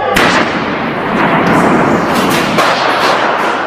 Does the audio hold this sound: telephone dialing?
no